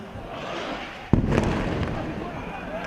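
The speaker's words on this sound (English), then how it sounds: "more missiles pounded the Gaza Strip" A single heavy blast from an Israeli missile strike in Rafah, Gaza, a sharp impact followed by a rolling, reverberant rumble over a steady background of noise and voices.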